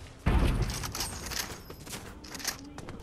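A burst of gunfire in the Fortnite video game, starting with a heavy close thump followed by a patter of fainter shots and impacts.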